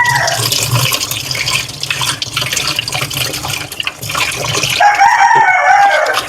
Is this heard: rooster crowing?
yes